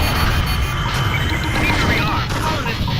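Beam cannon hit and explosion in the space combat game FreeSpace 2, a dense, loud, sustained rumbling blast with crackling noise filling the full stretch without pause.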